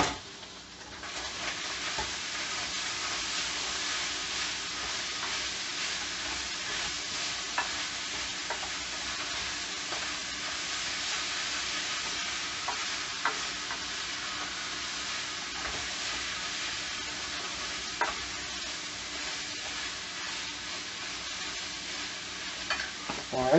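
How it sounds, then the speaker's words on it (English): Steady, loud sizzling of ground beef frying in a hot pan, a continuous crackling hiss with occasional sharper pops and no talking. "we're going to let that finish frying."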